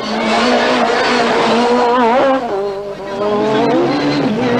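A Peugeot 306 Maxi rally car runs hard at speed on a rally stage, its engine loud and close with the pitch rising and falling through gear changes, then easing briefly before pulling again.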